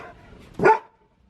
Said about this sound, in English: No matter how much you bark